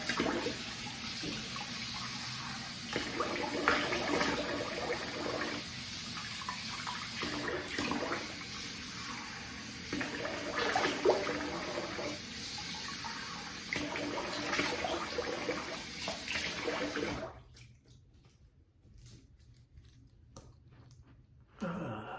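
Water from a sink tap runs steadily while someone rinses their face, with splashing bursts over the flow for about seventeen seconds before the water stops and the room goes quiet.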